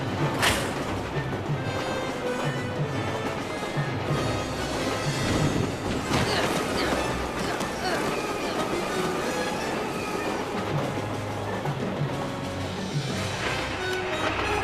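A train running in an animated Batman episode, with steady rumbling wheels and rail clatter plus a brief high squeal near the start, loud and continuous for the whole stretch.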